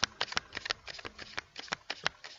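Tarot cards are shuffled by hand in rapid, crisp riffling bursts, a quick irregular series of soft flicks and slaps heard up close at low volume on a terrace.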